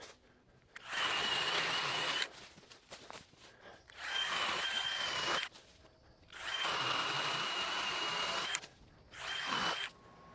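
SKIL 20V cordless telescoping chainsaw running in four separate bursts of a few seconds each, a close, loud, high-pitched motor whine with chain rattle and short quiet gaps between bursts.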